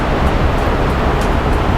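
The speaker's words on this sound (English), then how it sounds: "we've got quite a little squall that's come up. Kind of nice to have some rain to wash the boat off." Steady loud roar of rain and wind-driven waves washes over a sailboat in a sudden squall at sea, a continuous wash of noise with faint spatter, no voices.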